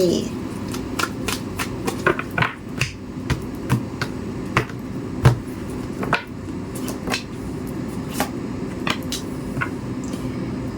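Tarot cards being shuffled and drawn by hand make a close, steady run of crisp snapping riffles and flicks that recur quickly throughout.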